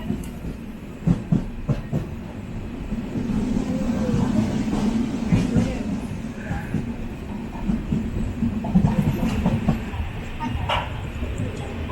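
A passenger train rolls slowly into Tirur station, a steady low rumble with intermittent rail clicks and clanks heard from on board, with faint background voices.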